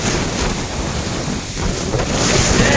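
Strong wind roars continuously and close over a millet field, buffeting the microphone with a dense rushing noise that swells slightly toward the end.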